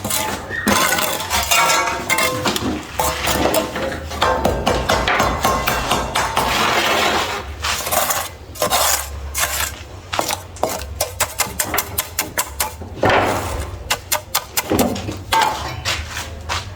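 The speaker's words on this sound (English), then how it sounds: "So by the time we tap it with the hammer now" Repeated sharp metallic hammer taps on a steel Ballista rail set in concrete ring out in dense bursts, some rapid and clustered, with brief pauses, loud and close against a low background rumble.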